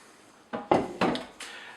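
Chicken bones and meat drop into a pressure cooker in four quick, close thuds and clunks against the metal pot, with short gaps between them and no talking.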